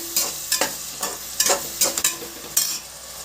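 Chopped onions sautéing in a pan with turmeric and salt for boti curry: about seven rhythmic scraping stirs of a spatula over a soft, steady sizzle, close and clear with no talking.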